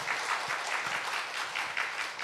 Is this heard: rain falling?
no